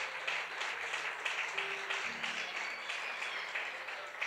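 A church congregation applauds the setup crew, a soft, steady patter of clapping from a crowd in a hall, heard at a distance with faint tones underneath.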